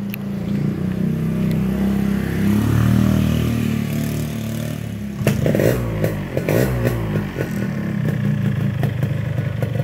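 A restored 2005 Yamaha RX-King motorcycle's engine starts and idles, a steady low rumble that turns rougher and more sputtering partway through, recorded close up with no other sounds.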